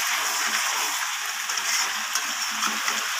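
Chicken with potatoes, papaya and carrots sautés in a pan, a loud, steady crackling sizzle filling the clip close up, with faint scrapes of stirring.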